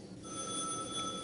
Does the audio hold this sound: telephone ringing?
yes